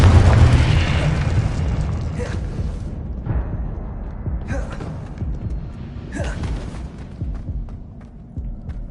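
In the Hogwarts Legacy video game, Incendio and Confringo spells go off as several loud booming blasts with fiery bursts, each dying away into a rumbling tail, with gasps among them.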